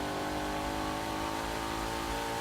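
A Ford Mustang GTD accelerates hard along a long stretch of the Nurburgring, its engine a loud, continuous high-revving roar held steady throughout with no voices.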